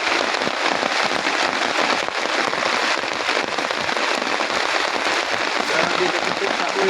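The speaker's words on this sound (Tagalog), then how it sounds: "Grabe dito sa ulan." Heavy rain pours steadily and loudly on a farm, a dense continuous hiss of drops hitting surfaces.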